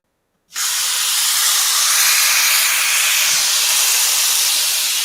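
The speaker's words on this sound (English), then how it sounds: "Sizzle, sizzle, sizzle. Hot and fast" Food hits a hot cast iron pan and bursts into a loud, steady sizzle that hisses on without letting up.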